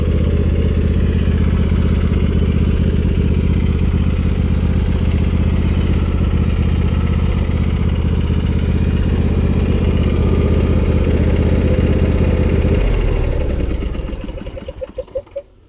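A Husqvarna YTH22V46 riding lawn tractor idles steadily and loudly up close, then shuts off near the end with a few fading sputters into quiet.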